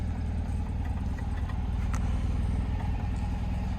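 An old Citroën Acadiane van's engine runs steadily at close range, a continuous low rumble with light mechanical clatter and no talk over it.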